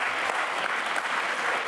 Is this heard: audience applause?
yes